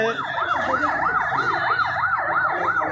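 A fire service siren wails in a steady, regular up-and-down cycle, loud and close, over a low rumble of traffic at the scene of a plane crash in Dhaka; no one speaks.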